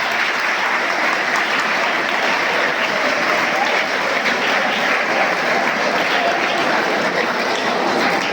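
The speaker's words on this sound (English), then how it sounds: "Give big applause for that" Sustained audience applause at a school panel inspection event, many hands clapping loudly and steadily throughout, a dense even wash of claps with no pause.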